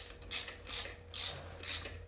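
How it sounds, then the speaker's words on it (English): Ratchet wrench loosening motor parts on a 2017 Harley-Davidson Street Glide with an M8 engine, four quick bursts of clicking strokes in an even rhythm, close but fairly quiet. "Let's take it off with the wrench."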